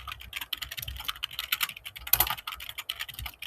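Rapid, uneven typing on a computer keyboard while writing code, a steady clatter of close, crisp keystrokes with a slightly heavier burst near the end and no voices.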